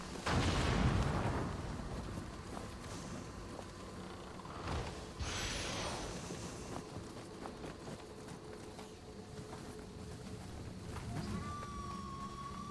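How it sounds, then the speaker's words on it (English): Bombs exploding in the video game Nioh 2, booming blasts over a dense, steady wash of in-game action, with a heavy burst near the start and another a few seconds later. "Somebody was throwing bombs at us."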